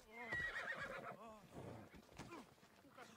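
A horse in the video game Assassin's Creed Odyssey lets out a loud, close whinny with a rising and falling pitch, followed by snorts and a few hoof clops.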